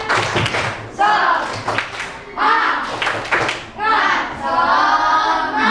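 Schoolchildren in a classroom perform a rhythmic spirit clap, bursts of patterned hand claps mixed with chanted voices, repeated in several close, loud rounds.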